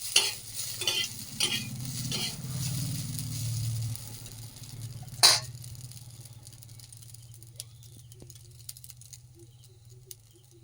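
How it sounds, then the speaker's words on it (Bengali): Home-style chow mein noodles fry in a pan with a sizzle, a few sharp stirring scrapes early on and one loud clatter midway, then settle into a softer fry over a low, steady hum. "সুন্দর কিন্তু হয়ে গেছে ভাজা ভাজা"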